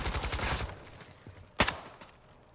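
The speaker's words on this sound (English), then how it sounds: "He's shooting at him upstairs." Rapid bursts of automatic gunfire crackle from an upstairs position in the video game DMZ, a dense volley for the first half second followed by a lull and one sharp, louder shot, all somewhat distant.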